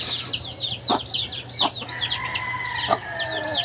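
A young chick clucking with several rapid high peeps and chirps close by, mixed with deeper clucks from other chickens and a steady low hum in the background; no one speaks.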